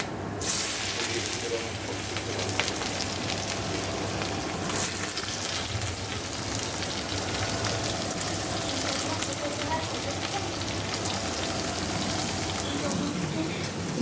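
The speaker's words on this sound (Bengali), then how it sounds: "দেখো আমি কালো জিরে শুকনো লঙ্কা ফোড়ন দিয়ে দিয়েছি আমি গাজরটা আগে দেবো কুমড়োটা পরে দেবো" Carrot pieces sizzling and frying in hot oil tempered with nigella seeds and dried red chilli, a steady dense crackle running throughout at close range with occasional stirring.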